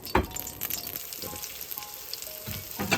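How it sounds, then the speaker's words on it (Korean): Fish cake stir-fried in a little cooking oil over low heat for japchae gives a close, continuous crackling sizzle with a few stirring scrapes, alone and without speech. "어묵을 볶아야 되는데 어묵은 식용유 조금 낮게 넣어야 됩니다."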